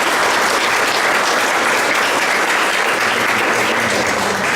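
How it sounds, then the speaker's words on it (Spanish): Sustained applause from an audience at a Morena state executive committee event on democracy and human rights in Mexico City, dense steady clapping filling the whole stretch at full strength without a break. "Y le damos un fuerte aplauso por toda su trayectoria."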